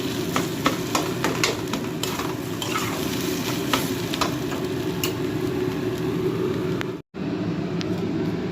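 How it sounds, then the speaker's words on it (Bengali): Mashed potato being stirred in a kadai, giving a steady close scraping and sizzling texture with scattered light clinks of the utensil against the pan and a brief break near the end, with no talking. "কড়াই নেড়ে নিলে আলুর মধ্যে যে জল জল ভাবটা থাকে সেটাও আস্তে আস্তে বেশ কেটে যায়"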